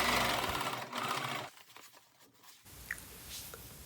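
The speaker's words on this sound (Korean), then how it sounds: "통솔을 박음질한 후에는 시접선을 보드의 안쪽으로 접어넣고 겉면에서 탑 스티치 한번 해줍니다" A sewing machine topstitches along a folded seam allowance on a hoodie parka coat, running loud and steady for about a second and a half before fading to a quieter mechanical hum with faint clicks.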